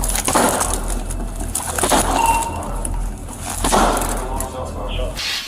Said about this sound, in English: forcing officers to break down the door